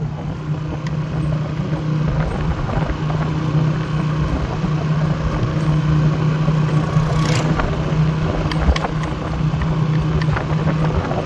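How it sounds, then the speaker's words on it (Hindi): Motorcycle riding along at about 40 speed, a steady continuous engine drone with rushing wind noise throughout, heard close and loud without talk. "ये मोटरसाइकिल चल रहा है 40 की स्पीड पे,"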